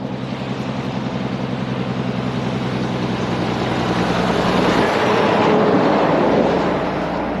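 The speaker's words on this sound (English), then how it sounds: "Ignore the sounds of the truck passing by." A truck passes by on a road, a loud low engine drone with a broad rushing roar that swells toward its closest point and then begins to ease off.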